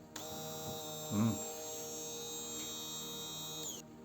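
A repaired blender motor runs with a steady, fairly quiet electric hum, starting abruptly and holding an even tone, with a brief louder rattle early on, before cutting off.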